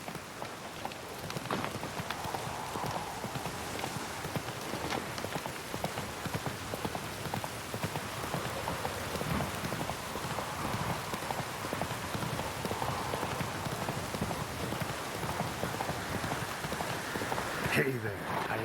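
Roach, the horse in The Witcher 3: Wild Hunt, gallops on and on in a fast, even rhythm of hoofbeats, close and steady under a constant hiss of rain, with a voice briefly speaking over it.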